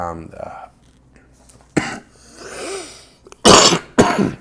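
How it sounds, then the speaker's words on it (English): A person coughs from smoke during a wildfire in Massachusetts, with a few coughs and throat-clearing bursts, the two loudest near the end. Close and fairly loud, with breathing and quiet voices between the coughs. "You still coughing it out of the lungs?"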